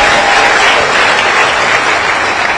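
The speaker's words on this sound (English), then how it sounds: "Can you clap for him once more?" A large crowd at a political rally applauds a speaker, a dense, loud, continuous wash of clapping with no pause throughout.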